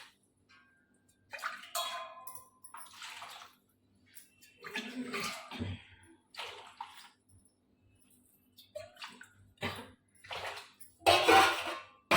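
Cut teasel gourd pieces being washed in several changes of water, with intermittent splashing, sloshing and clattering of a vessel in bursts close by, separated by quiet gaps.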